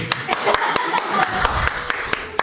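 An audience claps in a crowd at a live comedic stage show, a series of crisp, fairly evenly spaced claps ringing over a busy background of voices.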